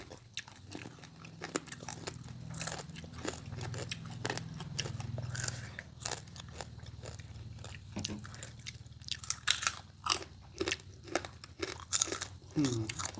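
Crunchy spicy squid salad chewed close to the mic, a run of crisp bites and wet crunching in irregular bursts that grow louder and sharper toward the end, with no talking.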